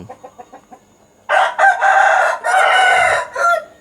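Soft clucks tick along at first, then a rooster crows loudly and close in several long, strained bursts.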